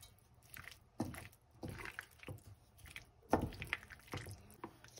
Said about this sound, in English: now I'm going to add the pasta into the mix